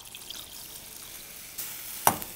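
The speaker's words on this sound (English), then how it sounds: "I'm going to add some chicken stock." Chicken stock is poured into a pot of kimchi jjigae, giving a soft liquid trickle and splash that builds near the end with a brief louder spatter, quiet and close with no voices.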